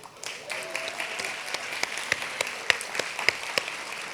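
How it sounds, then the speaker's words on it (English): An audience applauds at a School of Education pinning ceremony, with scattered, moderately faint clapping that grows denser and sharper over a few seconds, and a voice briefly audible. "So please join me in applauding the recipient with the highest GPA in secondary ed, Miss Abby Wilson."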